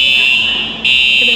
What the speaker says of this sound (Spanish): pisó donde no tenía que pisar y empezaron a sonar estas alarmas